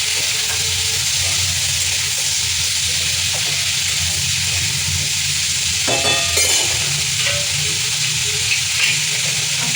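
Food sizzles and hisses steadily in a kadai as turmeric is stirred in, with a bright continuous frying crackle and occasional clinks and scrapes of a spoon against the pan.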